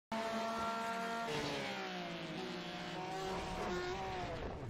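A race car engine in the iRacing sim holds a loud, steady harmonic whine, then drops in pitch and eases off as the car slows for a corner, with a hint of a gear change, no speech over it.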